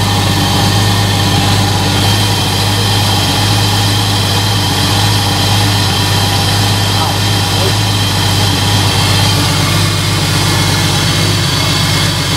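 A jeep engine runs steadily at idle, a loud, rough, continuous rumble with a faint mechanical whine above it, going on without a break.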